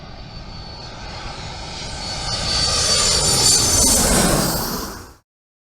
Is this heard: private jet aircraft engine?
yes